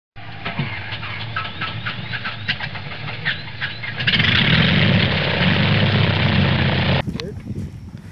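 A small RC model airplane with a brand new electric motor whines steadily nearby on a windy day, the pitch rising as the throttle climbs, under and around voices talking.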